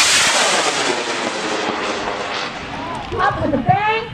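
A high-powered model rocket on a certification flight lifts off with a loud, sudden bang and a sustained broadband roar that fades as it climbs, with voices rising near the end.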